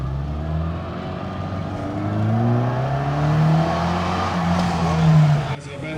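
A classic Mini Cooper race car sits idling at the start line with a steady low engine drone, which swells gradually and rises in pitch as revs build. The sound stays loud and close throughout and ends on a brief dip near the finish.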